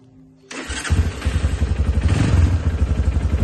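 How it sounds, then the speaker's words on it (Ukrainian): A Lifan City R 200 motorcycle engine cranks and catches after a brief quiet moment, then settles into a loud, close, lumpy idle with rhythmic pulsing. "Зараз можемо завести, відкриємо краник."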